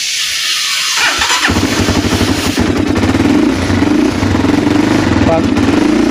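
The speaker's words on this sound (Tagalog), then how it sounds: "pag pinaandar mo po ang makina" A motorcycle engine starting after a quiet moment and then idling with a steady, rough, throbbing putter, loud and close.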